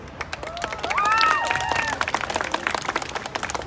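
Audience at an outdoor children's clown show in Bosque de Chapultepec breaks into a burst of clapping and crowd noise, swelling in the middle and trailing into scattered claps, with voices and whistles mixed in.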